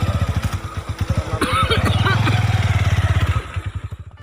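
A motorcycle engine idles and revs with a steady pulsing putter, close by and fairly loud, swelling in the middle of the stretch before settling back to idle.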